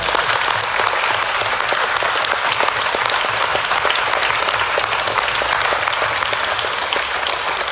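Loud, dense applause from a church assembly at a Pentecost gathering fills the space steadily and evenly, with no voices standing out.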